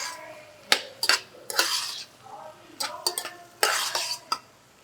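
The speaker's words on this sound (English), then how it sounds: "I'm going to go in with the potatoes." Potatoes tipped into a pot of Manhattan clam chowder in a restaurant kitchen and stirred, giving several sharp metal-on-pot scrapes and clinks in bursts, close and fairly loud, with no talking.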